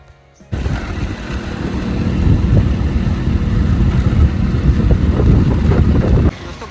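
A motorcycle with no display fitted rumbles into life and rides along through warm market streets, a steady close engine drone that starts abruptly and cuts off near the end.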